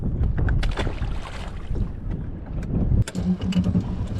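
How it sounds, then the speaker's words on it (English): Wind gusts across a lake around a fishing boat, steady broadband rushing with buffeting microphone noise and some hull and water knocks, fairly loud and continuous with no talk. "The wind is getting pretty bad right here"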